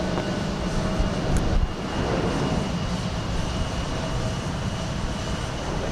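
An airliner departing Houston Intercontinental for Guatemala City, a steady broad jet roar at moderate distance, continuous with no voices.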